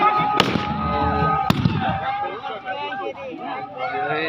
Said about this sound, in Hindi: दीपावली के मतलब धमाका बहुत जोर जोर से चलत हवा।